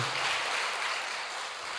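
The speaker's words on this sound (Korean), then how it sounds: "이런 분들 박수 한번 쳐줘요" A church congregation at a Friday night service applauds together, a thick, continuous hiss of many hands clapping that fills the room evenly and stays loud throughout.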